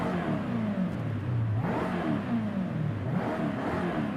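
A British V8 GT car in the Forza Horizon 5 racing game, its engine revving in loud, sweeping rises and falls, a continuous growl that climbs and drops twice with no talk over it.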